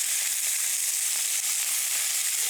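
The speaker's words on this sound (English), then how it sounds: "We just want to get a little crust, a little sear" Herb chicken searing in a hot pan to build a crust, a continuous bright, hissing sizzle at moderate level, steady and uninterrupted with no voices.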